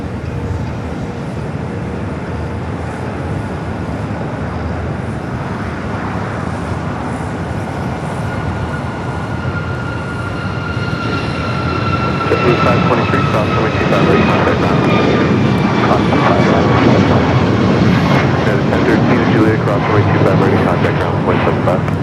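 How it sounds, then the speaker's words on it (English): An 18-year-old EVA Air Boeing 777-300ER takes off on the north runway at LAX, its engines rising from a distant whine into a loud, building roar with falling tonal whistles, alone without talk. "We're waiting for Eva to take off there on the north."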